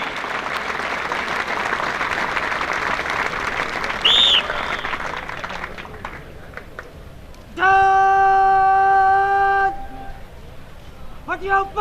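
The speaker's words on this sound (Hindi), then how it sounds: "आपकी तालियां जवानों के संग रहे" Applause from an audience cheering soldiers during a special forces weapons drill, a broad steady wash of clapping that fills the first several seconds, followed by a loud sustained tone and other noise later.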